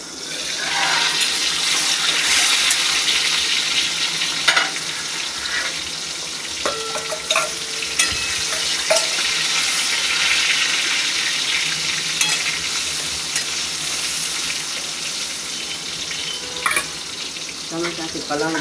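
Tomato frying for bhaji pav made without onion or garlic, a steady close sizzle with intermittent stirring scrapes and clinks throughout, no talking.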